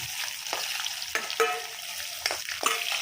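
Onions dropped into hot oil with tempering seeds on a husk-fired stove, frying with a continuous close sizzle and several scraping stirs, no talking.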